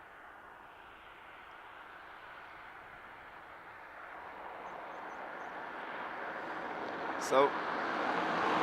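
An SAS Airbus A320neo airliner at Dublin Airport, its jet roar building steadily from faint to louder at a distance, with a person briefly speaking.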